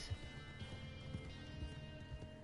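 A horse gallops in the Red Dead Online western game, its hooves making a quick, steady run of soft, low thuds at moderate distance.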